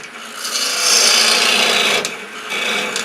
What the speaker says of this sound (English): we'll just start in here with our bowl gouge